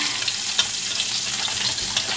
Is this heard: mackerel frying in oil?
yes